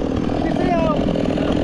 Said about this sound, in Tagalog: may kailangan na i-repair yung ano, yung chainsaw ni Papa.